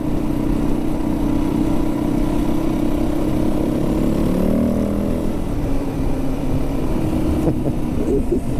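A Yamaha WR450F dirt bike engine runs with a steady mid-pitched drone, rising slightly in pitch as if revved midway, heard close and continuously throughout.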